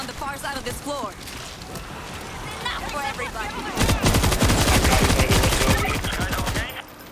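Gunfire from the World War Z video game builds into a dense, rapid automatic burst lasting several seconds, with voices talking over it before and during the shooting.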